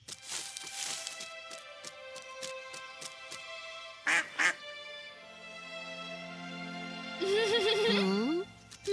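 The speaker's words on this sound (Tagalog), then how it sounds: "Isang maliit na pato lang pala." A few quacks from a small cartoon duck amid music and sound effects, nasal and fairly close.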